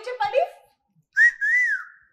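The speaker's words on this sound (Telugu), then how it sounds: "నన్ను చూసి విజిల్ కొట్టినట్లేదు కదా" After a brief burst of talk on a television interview set, a person whistles one clear tone that rises and then slides on, close and distinct, lasting under a second.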